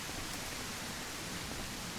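Rain falling in the Wilderness Edge survival game, a dense, even hiss of steady downpour with no break or other sounds.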